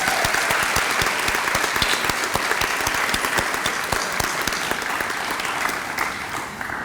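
Steady round of applause from the audience at a nursing pinning ceremony, many hands clapping close and loud with distinct sharp individual claps, gradually tapering off.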